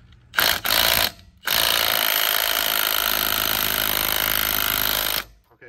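A Milwaukee compact cordless impact wrench with a fresh battery hammers at a car lug nut, two brief loud bursts followed by a sustained rattling drive of about four seconds, close and loud, then stopping.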